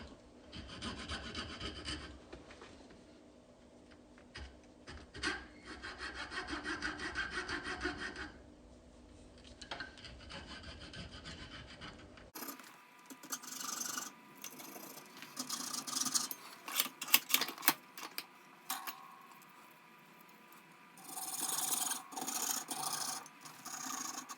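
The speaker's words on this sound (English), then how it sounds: "And I'm going to basically cut to a blade depth" Hand saw rasping through a rattan SCA practice sword, cutting down only to blade depth; steady back-and-forth strokes, close and fairly loud, with a change in tone partway through and no talking.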